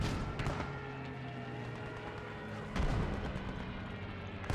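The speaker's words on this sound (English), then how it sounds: "Good hit with the Stuka." A Stuka dive bomber's bomb strikes in the World War II shooter Post Scriptum, with a loud, low explosive boom landing in the middle of steady, dense battlefield rumble and distant gunfire.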